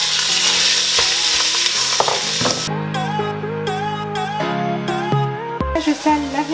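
Minced meat sizzles in olive oil in a pan, a bright frying hiss that gives way after a few seconds to music, with stirring clicks over it.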